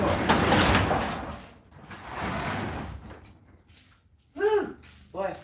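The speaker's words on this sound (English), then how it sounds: "We'll open up the garage door." A garage door rolls open with a long, loud rumbling slide, rising and falling over several seconds before fading, followed by a couple of short voiced bursts near the end.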